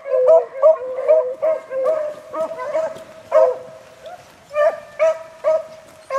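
Beagles out hunting bark and bay in a run of sharp, ringing yelps and howls, repeated in quick bursts and fairly close, with brief gaps between calls.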